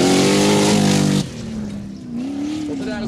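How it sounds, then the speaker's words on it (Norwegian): A Chevrolet Corvette engine boosted with a truck turbo, around 800 horsepower, in a Formula Offroad race car at Mysen, Norway, roars loudly and close, dropping abruptly and then revving again with shifting pitch. "En Chevrolet Corvette-motor som vi har boostet opp med lastebilturbo skal være rundt 800"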